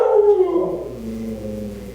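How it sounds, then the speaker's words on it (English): A dog howls and barks loudly nearby, a strong wavering howl at the start that fades into lower, sustained whining tones, with no speech. "my dog's barking."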